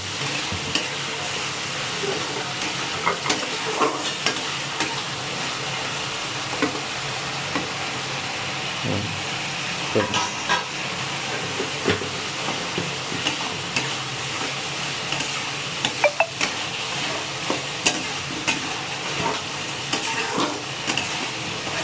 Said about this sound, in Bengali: চলো মশলাটা ততক্ষণে কষানো হোক।